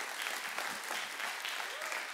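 Church congregation applauding to acclaim the Lord during a worship service, steady dense clapping from many hands that carries on evenly throughout.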